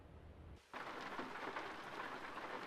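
Rain and thunder in Euro Truck Simulator 2 at a night stop: a quieter rumble gives way to a sudden swell of heavy, steady rain hissing loudly for the rest of the clip, with no talking.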